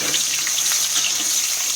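Potatoes dropped into hot oil with cumin tempering hiss with a steady, dense sizzle, close and continuous with no talk over it.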